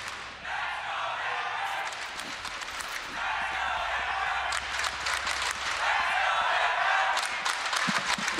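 Arena crowd at a Team Liquid versus NAVI Valorant esports match in VCT EMEA 2023, cheering and applauding in loud swells that rise and fall, with commentators talking over it.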